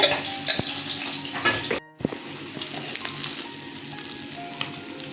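Fish fry in oil in a pan, a close, continuous sizzle with crackling pops and occasional clinks of a utensil, broken by a brief near-silent gap midway.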